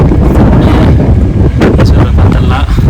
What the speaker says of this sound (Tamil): காற்று ரொம்ப அடிக்குதான் ட்ரெஸ்